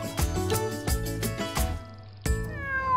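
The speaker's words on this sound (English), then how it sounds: "It's this cat's first time getting stuck in a tree." A cat stuck up in a tree meows repeatedly, a string of loud, close, drawn-out cries with short gaps between them, heard alone without talk.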